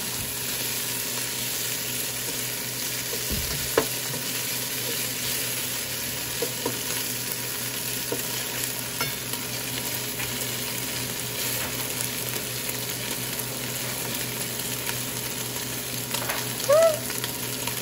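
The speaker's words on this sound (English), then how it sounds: "Look at this beef. I want it to brown just a little bit more." Beef browns in a frying pan with a steady, close sizzle and crackle, punctuated by a few faint clinks from the pan, and no one talking.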